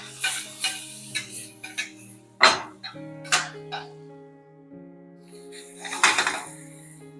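Pans and a plastic shrimp container are handled in a home kitchen, giving a scatter of sharp clanks, clinks and knocks, some ringing briefly, close up and with irregular pauses between them.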